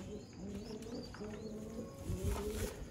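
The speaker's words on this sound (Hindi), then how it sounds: "ये भी जी बटेरा कबूतर है" Bateri (Sialkoti) pigeons coo in soft, repeated throaty rolls, fairly close, with faint chirps and a light rustle in the background.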